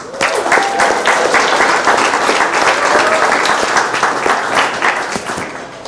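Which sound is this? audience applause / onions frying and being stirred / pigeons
audience applause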